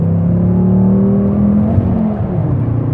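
A Volvo C30 R-Design with a body kit, wing, springs and wheels accelerating hard, a loud continuous engine drone rising in pitch from inside the car, with no voices.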